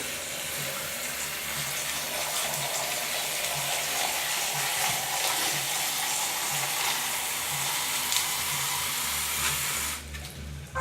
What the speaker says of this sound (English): So I'm filling up my yogurt container right now with water.